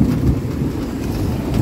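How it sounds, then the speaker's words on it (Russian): Steady rain with thunder rumbling through it, a loud, continuous low roar with no talking over the short stretch. "Смотрите, какой у нас дождь идет."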